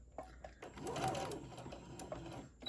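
A sewing machine stitches the boxed corner of a fabric drawstring Santa bag, a close, steady mechanical whir with rapid needle clatter running throughout, quiet overall.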